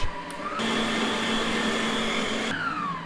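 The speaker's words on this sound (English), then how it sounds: "Next, we're gonna beat egg whites. Okay, I got a mixer" An electric hand mixer whirs steadily at high speed while beating egg whites for a classic chocolate mousse. After a brief start, it runs as a loud, continuous motor drone at close range, with no talk over it.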